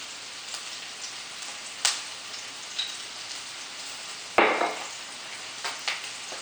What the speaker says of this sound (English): some onions, and we stir fry